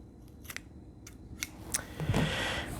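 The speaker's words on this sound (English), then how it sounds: "So we just cut a little wedge in here." Scissors cut a small wedge into kinesio tape for index finger taping, giving a few quick close snips that end in a longer rustling cut.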